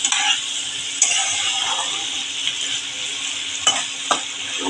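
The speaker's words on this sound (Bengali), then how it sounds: "দু মিনিট কষিয়ে নেবো" Papaya and prawn ghonto being stir-fried in a pan, a close, steady sizzle with a few sharp spatula knocks against the pan, no voices.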